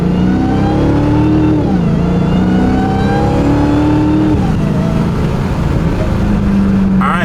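Dodge Hellcat V8 with its stock intake revving hard through a pull, loud and close, the engine note rising and falling through gear changes with a steady supercharged drone.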